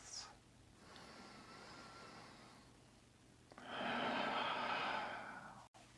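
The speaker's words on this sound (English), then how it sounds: "Couple breaths." During yoga relaxation, a person breathes slowly and quietly, with a soft exhale near the start and a longer, fuller breath out in the second half, close and gentle in a hushed room.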